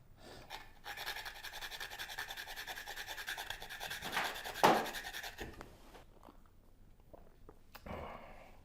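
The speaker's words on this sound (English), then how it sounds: "Grate a little nutmeg on top." Whole nutmeg grated over a glass of Victorian-style eggnog, a steady, quiet rasping scrape that runs for several seconds, briefly louder partway through, then trails off into softer scratches.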